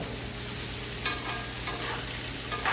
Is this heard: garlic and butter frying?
yes